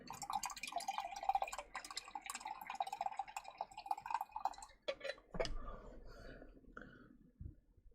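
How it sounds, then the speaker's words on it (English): Coffee poured from a thermos makes a gurgling, trickling liquid sound, close and fairly quiet, ending with a few drips and light knocks, with no talk. "Here, let me get some more coffee."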